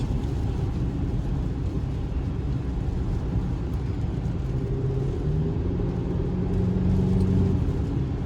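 A Kia car with a 4-cylinder engine drives along, a steady loud low rumble of engine and road noise from inside, with revs rising toward the end and no talking.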